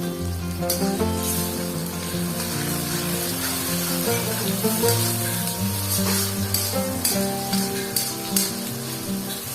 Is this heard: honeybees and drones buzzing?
no